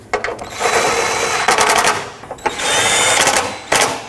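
Radiator support bolts on a 2005–2010 Pontiac G6 are snugged with a power tool, giving loud, close, rattling bursts of rapid ratcheting impacts separated by brief pauses.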